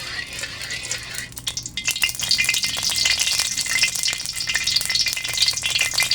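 Cooking oil goes into a pan for sautéing bean sprouts and tofu, and a few clattering scrapes give way to a bright, crackling sizzle that holds steady and close.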